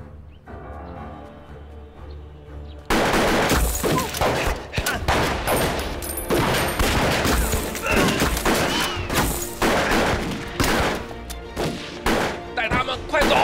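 A shootout in a Chinese anti-Japanese war kung fu film set among bandits and a wedding party. After a quieter opening, dense bursts of gunfire begin and continue as a sustained, loud volley of shots with impacts.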